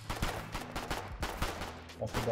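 Rapid bursts of gunfire in the war game Foxhole, a dense run of sharp repeated shots across the whole stretch with voices speaking over them.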